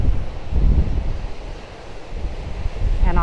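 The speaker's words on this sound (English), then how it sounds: "So you can see the great waves coming in" Ocean surf breaks along the coast at Ericeira, a loud, rolling wash of waves that swells and eases. Heavy wind buffets the microphone throughout.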